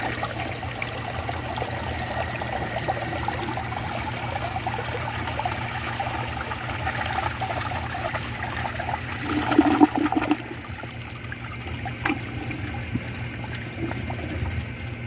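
A 1973 VHP toilet refills its tank and flushes during a dirt test, with a steady rush of running water throughout and a brief louder gurgling surge partway through.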